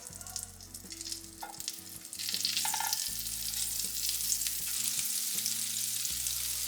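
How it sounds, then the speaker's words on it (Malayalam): Bread sizzling as it toasts in butter in a pan, a steady frying hiss that swells louder partway through, with low tonal hum beneath and no voices. "ഇതുപോലെ തന്നെ രണ്ട് വശം ഒന്ന് ടോസ്റ്റ് ചെയ്തെടുക്കാം"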